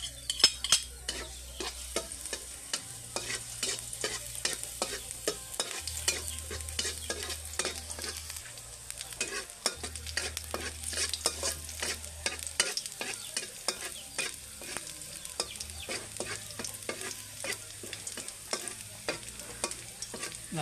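Chopped garlic sizzles steadily in hot oil while being stirred, with dense, continuous frying crackle and frequent scraping strokes of a utensil against the pan, close and without talk.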